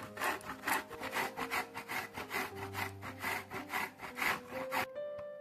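Coconut is rubbed briskly against a hand grater in a steady run of rasping, scraping strokes, close and fairly quiet, with no talking.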